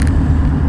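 Van driving on the road during a road test, a brief loud, close engine and road rumble heard from inside the cab, with no talk.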